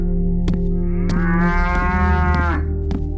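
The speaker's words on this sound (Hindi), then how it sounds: "उसने सरजू के आंगन से जोर जोर से रंभाने की आवाज सुनी।" A cow that cannot stand bellows loudly from a village courtyard: one long, drawn-out moo that rises and holds before fading, close and strong over a steady low background hum.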